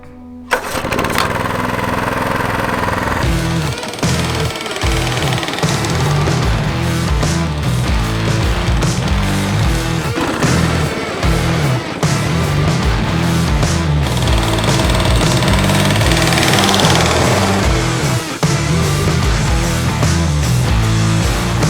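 A rotary lawn mower runs at full throttle cutting grass below its lowest setting, a loud, close, continuous engine drone with a rough, chopping blade roar that wavers slightly as it moves along its passes.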